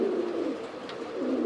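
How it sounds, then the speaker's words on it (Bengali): A Dobash pigeon coos in a low, throaty, sustained murmur, close and clear, with no talking over it. "দোবাস কবুতর"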